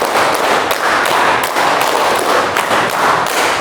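Adults in a math-teaching session repeat a counting clap game, their hands striking together in loud, close bursts of group clapping that pulse in short clusters across the whole stretch.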